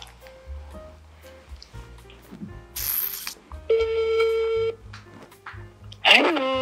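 A phone call is placed while background music plays, with a mix of beeps, tones and mechanical clicks, then a sharp burst near the end.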